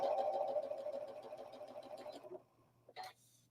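An Elna sewing machine sews a seam with a steady whirring run of stitches for over two seconds, then stops automatically, leaving a low hum and a brief click.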